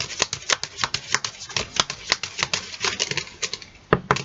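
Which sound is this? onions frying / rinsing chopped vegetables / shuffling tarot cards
shuffling tarot cards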